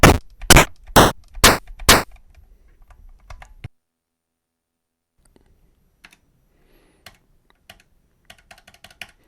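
Drum sounds from a Game Man sample kit on a Polyend Tracker open with five loud, evenly spaced hits, then give way to faint scattered taps and clicks after a stretch of near silence.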